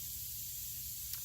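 A spray gun hisses steadily while laying down silver metallic paint on a lawnmower being refinished, an even, continuous close airy spray with no pauses.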